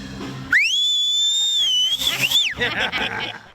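A single loud, sustained whistle rises sharply, holds its pitch for about two seconds, then drops away into background chatter.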